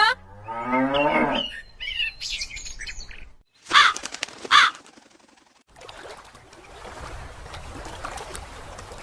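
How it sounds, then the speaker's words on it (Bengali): A hungry cow gives a long, loud moo nearby, followed by crows cawing in sharp bursts against faint outdoor background noise. "ওইদিকে যে গরুটা খিদের জ্বালায় চেঁচাচ্ছে"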